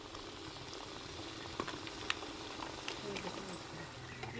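Steady sizzling and crackling of onions frying in a pan, with occasional sharper pops over a constant hiss.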